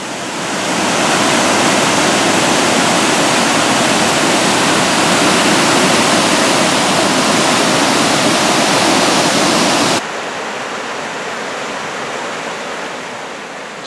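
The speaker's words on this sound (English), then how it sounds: "And here is the waterfall." Steady, loud roar of a waterfall, a dense continuous rush of falling water that drops to a somewhat softer, thinner rush near the end.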